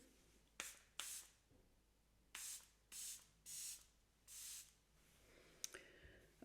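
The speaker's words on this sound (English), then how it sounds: "Charlotte Tilbury setting spray." Charlotte Tilbury setting spray is misted in a series of seven or eight short, close, breathy pumps, each a quick hiss with brief pauses between them.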